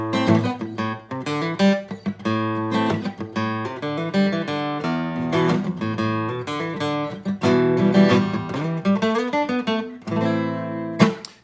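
Guitar strums and picks a run of embellished minor chords, ringing clear and close with rhythmic plucked attacks and sustained notes, played alone with no talk.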